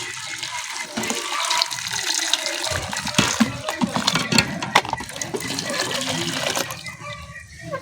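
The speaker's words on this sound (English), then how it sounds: "So we are going to add their hot water." Hot water pours for poultry in a steady, rushing splash that holds for several seconds before easing off near the end. The sound is close and fairly loud.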